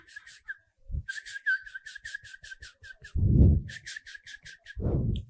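A child imitates a chick's cheep with a quick string of high, thin whistled peeps in short bursts, separated by breathy pauses and a couple of louder low breaths.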